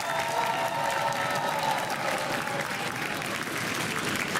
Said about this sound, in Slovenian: Dajmo en aplavz.